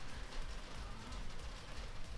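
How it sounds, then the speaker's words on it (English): Steady rain patters continuously outside, a soft even hiss with low rumbling underneath, faint and unbroken, no voices. "Rain hasn't stopped yet, so I hope I can edit the noise of the rain out of my video"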